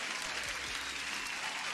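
Brief, dense clapping fills the moment without a break, a steady wash of many hands.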